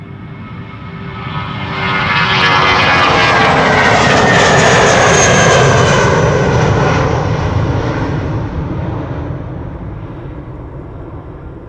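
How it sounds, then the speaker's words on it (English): A British Airways airliner on flight 2541 to London Gatwick passes at Schiphol Airport, its loud engine roar swelling within two seconds, holding strong for several seconds, then slowly fading, with no voices. "This is BA going to London Gatwick, flight"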